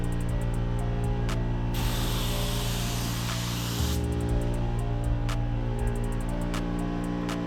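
A paint spray gun hisses in one loud, close burst of about two seconds amid a steady mechanical hum and light, regular clicking before and after.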